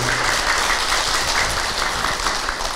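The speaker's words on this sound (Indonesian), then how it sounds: "Tepuk tangan buat Mbak Nurfi." A crowd at an Islamic religious talk claps together, dense and continuous applause filling the space for a few seconds.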